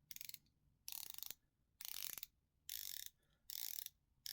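A polished, scalloped-edge steel bezel on a Hexmariner 42 dive watch is turned in five quick bursts of dense, fine ratcheting clicks, each separated by a short pause, close up and crisp in a quiet room.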